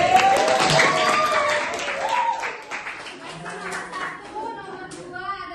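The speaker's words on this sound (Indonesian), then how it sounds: "tepuk tangan dulu buat Lexi." Children in a classroom clap together in a lively burst of applause that gradually thins out, mixed with their chatter and voices throughout.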